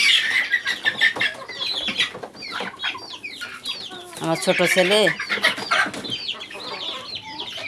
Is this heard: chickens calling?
yes